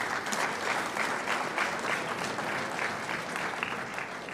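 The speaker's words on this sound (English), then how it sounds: "Everybody give yourself a round of applause." A room full of people applauds at a college sports banquet, a dense, steady wash of clapping at moderate volume that continues evenly without pause.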